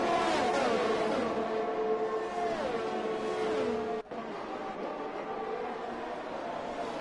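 Race cars run at Monza in a racing video game, with several engine notes whining and shifting pitch together, loud and close, before the sound drops to a steadier, quieter drone.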